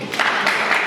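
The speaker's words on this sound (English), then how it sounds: "Clap for yourself." High school students in an audience in Kyotera clapping for themselves, a short burst of dense crowd applause at steady moderate loudness.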